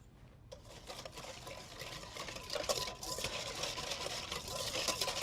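Vinegar, oil and stone ground mustard dressing whisked in a big bowl, a rapid, steady wet clicking and swishing that runs close and continuous, with no talk.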